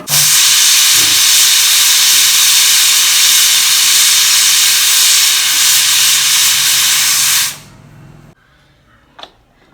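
A pressure cooker cooking country chicken soup releases a loud, steady jet of hissing steam continuously for several seconds, then cuts off abruptly, leaving quiet room noise with a faint clink.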